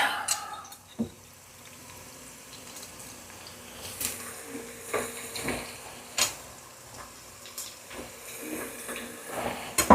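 Garlic frying in a pan for an Italian ditalini dish with chickpeas and sausage: a quiet, steady sizzle runs throughout, broken by scattered clicks and taps of utensils against the pan.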